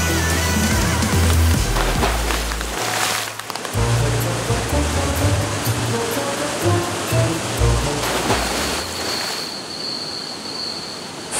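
A waterfall in La Fortuna, Costa Rica roars as a steady, dense wash of rushing water, full and close throughout.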